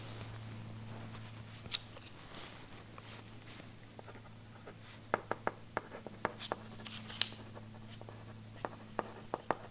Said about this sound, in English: I'm just gonna go ahead and type this down.